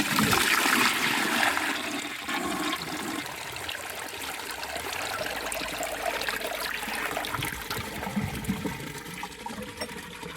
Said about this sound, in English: this will be the last couple of flushes that we see before I plant flowers in it